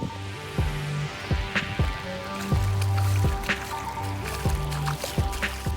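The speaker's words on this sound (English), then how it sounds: "The rain's really coming down now." Rain falls heavily on a sailboat at anchor on Banderas Bay as a storm makes landfall, heard as close, irregular drips and splashes landing on surfaces over a continuous wet patter. No one talks.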